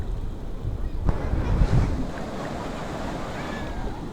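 Ocean waves wash in a continuous rushing roar, with wind buffeting the microphone and a faint voice underneath.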